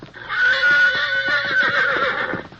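A horse whinnies loudly and steadily for over two seconds, a long wavering neigh with faint clip-clop beneath, in an old-time Western radio drama scene after the animal is unsaddled and sent running to the hills.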